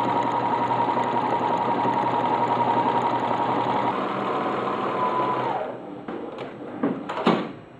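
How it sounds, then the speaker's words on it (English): A sewing machine stitches a row along a folded fabric edge with a steady, rapid, close mechanical whirr that winds down after about six seconds, followed by a few clicks and knocks of the machine being handled. "Fold it over once and do a row of stitching down"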